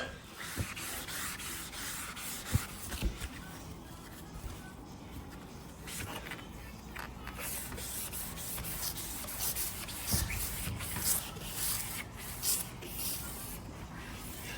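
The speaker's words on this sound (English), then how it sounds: "Just going to give this a quick sand and then we'll get it painted up." Hand sanding of a narrowboat roof to key the old paint before repainting, outdoors early in the morning: continuous rough scratchy rubbing strokes, close and moderately loud, with scattered knocks and no talk.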